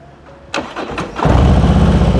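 A Harley-Davidson motorcycle engine with an aftermarket exhaust cranks with a couple of sharp bursts, then catches and settles into a loud, steady rumble close by.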